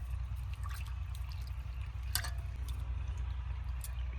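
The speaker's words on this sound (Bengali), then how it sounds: "ভালো করে এরকম জল ঝরে ঝরে তুলে নেবো" Water drips and trickles off pieces of vetki fish lifted from a soaking bowl in a home kitchen, with scattered small splashes and patters close by over a steady low background hum, and no talking.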